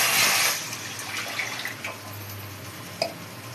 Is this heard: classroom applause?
no